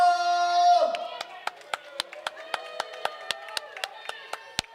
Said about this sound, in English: I think it's bad that we're probably the only ones clapping for him.